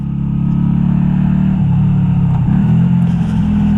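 Honda Shadow 125 motorcycle engine running close by, a steady low rumble with brief dips in revs, loud and without talk.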